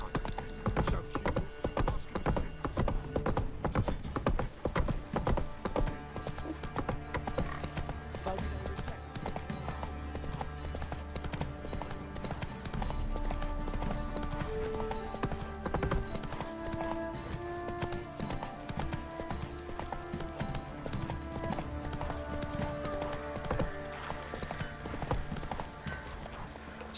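The horse Roach gallops in The Witcher 3, rapid rhythmic hoofbeats pounding throughout over game music, with occasional snorts and a brief spoken line.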